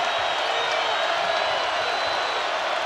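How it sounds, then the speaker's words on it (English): A basketball arena crowd at a Big 12 men's game between Houston and Texas Tech, cheering in a steady, loud, dense roar with no breaks. "Crowd has been alive all night long"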